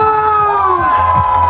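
A crowd cheering and shouting at a live outdoor folk-comedy show with traditional trot music, a loud continuous roar with some high voices rising through it.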